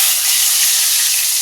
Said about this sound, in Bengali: পান্তা দিয়ে খাওয়ার জন্য আবার একটু আলু ভাজছি, আলু আর পটল।